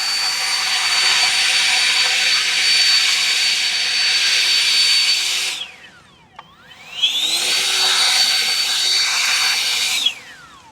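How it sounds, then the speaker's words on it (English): A cordless brushless electric leaf blower runs loud and close in turbo mode with a steady high-pitched whoosh, cuts off and spins down, then surges back up to full turbo before being shut off again. "Now this is turbo mode by hitting the turbo button, holding the trigger and pressing on turbo."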